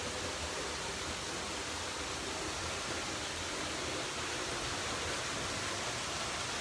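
Steady broadband hiss of falling and trickling water fills an indoor tropical forest conservatory, the Climatron, a constant close wash with no voices.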